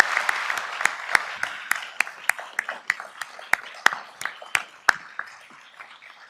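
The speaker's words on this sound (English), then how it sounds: "I really just want to offer a round of applause to all of them as well" Audience applause at a university fall convocation ceremony, a crowd clapping in a hall with distinct sharp claps over a softer wash, gradually thinning toward the end.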